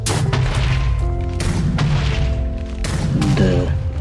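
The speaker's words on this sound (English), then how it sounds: "Pretty big explosion." Grenade launcher rounds exploding in modded Minecraft, several loud booming blasts in quick succession with crashing debris between them.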